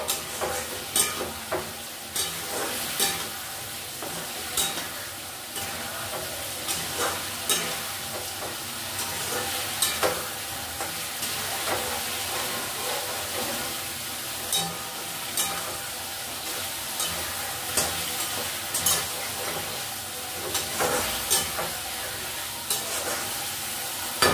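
Spiced fish curry base sizzles steadily in a pan while a utensil stirs and scrapes it in frequent soft knocks, fairly quiet and close, with no talk.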